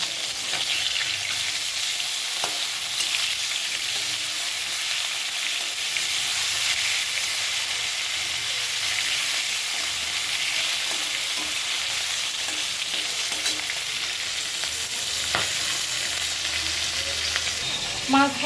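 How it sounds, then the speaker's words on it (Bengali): Fish frying in hot oil in a pan gives a steady, even sizzle that runs unbroken throughout, with a few faint clicks; no one speaks. "এখানে কিছু মাছ ভাজতে দিয়েছি"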